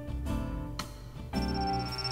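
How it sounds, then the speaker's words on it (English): A cell phone buzzes and rings from inside a breast pocket in a visual novel game, giving a sustained electronic ringing tone that pulses in a few bursts over background music. "my cell phone vibrated inside my breast pocket"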